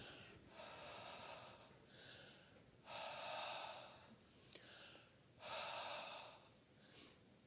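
A person breathes out onto a temperature sensor in three long, airy exhalations with short pauses between, close and fairly loud, with no one speaking.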